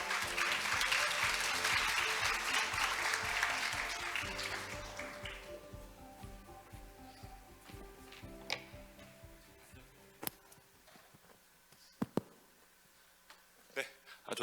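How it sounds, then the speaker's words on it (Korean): Applause from an audience welcoming a professor to the stage at a youth jobs forum in Jeju, dense and loud for about five seconds, then thinning to scattered claps and small knocks with faint voices. "여러분 박수 부탁드립니다."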